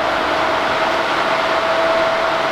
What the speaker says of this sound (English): One, the milling machine, which I can stop.